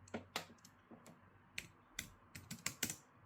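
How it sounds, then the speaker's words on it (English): Typing on an Arteck 5.0 Bluetooth portable keyboard: a quiet, uneven run of about a dozen crisp key clicks with gaps between them, close up and without talk. "And now I want you to see me typing."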